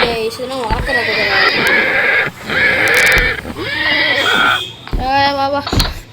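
Horses in the Minecraft video game whinny and neigh repeatedly in loud, close, drawn-out calls, with brief breaks and some hoof clip-clop in between.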